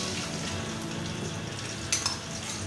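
Beaten eggs go into a hot pan with a steady frying sizzle throughout, ending in a couple of brief light clinks of a utensil against the pan.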